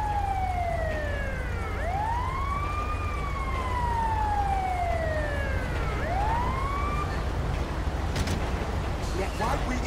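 Ambulance siren in the GTA 5 video game wailing in repeated rising and falling sweeps over a steady low rumble, loud and close, with faint clicks near the end.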